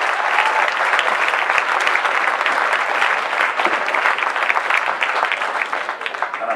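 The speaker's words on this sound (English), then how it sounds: "Please give another round of applause." Sustained audience applause at a jazz festival in London, following a piece with tablas and drums; dense, steady clapping from a large crowd, loud and continuous throughout with no talk.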